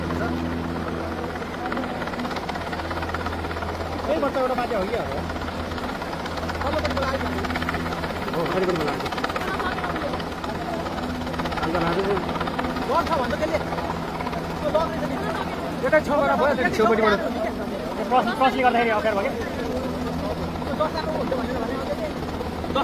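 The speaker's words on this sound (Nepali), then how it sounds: "हेलिकप्टरले चाहिँ फसेको बच्चालाई उद्धार गर्दैछ यहाँ ढुङ्गेमा" A Nepali Army helicopter hovers nearby during a flood rescue of a child stranded on a rooftop, with a steady low rotor thrum and engine whine, while people talk loudly over it.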